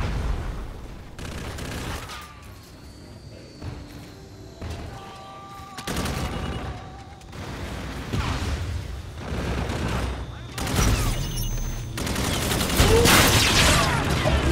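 Multiplayer gunfire in Call of Duty: Infinite Warfare, with repeated loud bursts and single shots in irregular clusters, some close and some farther off, over ambient game sounds.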